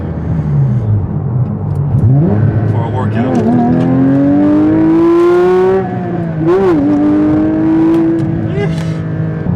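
A fun car's engine revs hard while driving, a loud, rising growl that climbs through several gears and dips between shifts, with someone talking over it.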